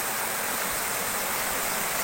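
Stream water rushing down from Mapita Falls in Aguilar, Pangasinan, a continuous broadband roar of flowing, splashing water, loud and close, with no breaks or voices.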